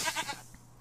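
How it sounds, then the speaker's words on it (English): A Minecraft goat from the video game gives a short bleat: one quick wavering call, close and clear, ending with a faint click. "We got some goats."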